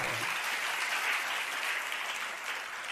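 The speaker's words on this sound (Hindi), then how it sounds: "आप लोगों ने ताली बजा दिया" An audience applauds during a religious discourse, dense steady clapping filling the whole stretch at an even, moderate level before easing slightly at the end.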